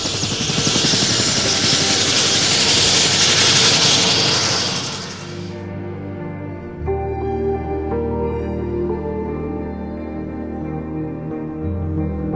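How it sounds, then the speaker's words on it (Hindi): A helicopter on a flood search-and-rescue mission in Jacobabad roars with loud rotor chop and turbine whine, close and heavy at first, then settling into a steadier, lower droning hum inside the cabin. "आपको दिखाएंगे कि किस तरह से हेलीकॉप्टर के ज़रिए रेस्क्यू और रिलीफ का काम किया जाता है"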